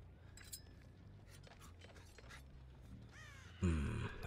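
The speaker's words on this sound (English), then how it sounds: "Come on, crows. Snitch on someone." Crows cawing in Dead by Daylight, a few faint calls spread through quiet ambient noise, followed by a louder burst of harsh, low cawing near the end.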